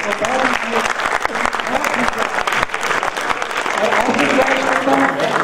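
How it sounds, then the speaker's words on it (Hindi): Loud, sustained applause from a theatre audience at a live Pothwari comedy stage drama, dense clapping continuing steadily throughout with a crowd murmur and some voices mixed in. "भरपूर तालियां बजाकर"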